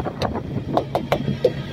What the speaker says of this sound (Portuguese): Que ventania.